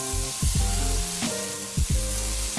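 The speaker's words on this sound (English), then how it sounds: "so now I'm going down with my burgers." Burger patties sizzle on a Blackstone flat-top griddle just after bacon, a steady broadband frying hiss with a few louder spatters and scraping clanks of a spatula, close and continuous with no talking.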